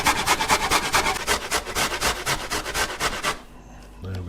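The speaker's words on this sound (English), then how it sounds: "So let's just grate away." A carrot is rubbed over a grater for chili con carne, giving a rapid, rhythmic rasping scrape, close and fairly loud, that stops abruptly near the end, leaving faint room noise.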